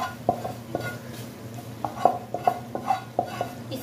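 Spoon stirring okra into keema in a pan, with a soft steady sizzle under repeated sharp scraping and tapping strokes, close and moderately loud.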